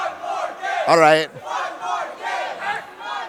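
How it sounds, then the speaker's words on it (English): Crowd at a Splatoon esports grand final roars with sustained cheering and shouts, loud and continuous, with a brief louder burst of yelling in the middle and a voice speaking over it. "Everyone's cheering."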